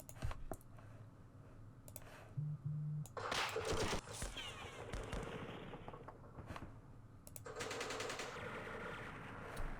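Gunfire in the Vietnam war game Campaign Series Vietnam, with sharp clicks and rapid bursts of shots in several clusters, two short tones near the start, and a noisy spread of sound later on.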